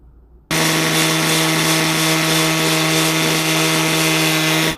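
A power saw cuts through a concrete block for a building a retaining wall, a loud continuous steady whine with a strong tonal hum that starts abruptly after a brief quiet lead-in and holds for several seconds.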